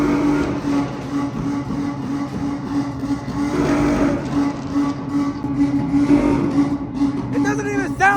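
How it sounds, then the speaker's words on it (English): A car revving loudly nearby, apparently a BMW, its engine roaring and surging over steady running noise while people talk over it. "I just don't get why people revving."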